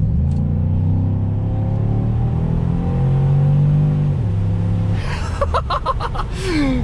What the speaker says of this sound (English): All right, guys, I'm going to give you a little pull here in the old SS.